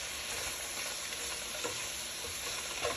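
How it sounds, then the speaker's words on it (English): Vegetables cook gently in a pot for Korean spicy tofu soup over moderate heat, with a soft, steady sizzle and faint stirring close by, quiet and continuous with no talking. "we're just going to cook them until they're a little translucent"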